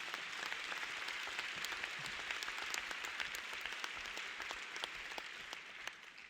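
Faint, distant applause from an audience at a conference-style gathering, with a steady wash of scattered claps and no talk.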